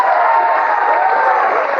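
A studio audience at the comedy talk show Tough Crowd bursts into applause and cheering to vote for a contestant, a brief, dense and even roar of clapping and shouts.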